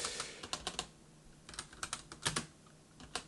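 Fingers type quickly on a computer keyboard at close range, producing crisp key clicks in short uneven bursts with brief pauses between them.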